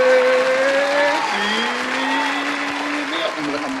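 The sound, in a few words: round of applause for a guest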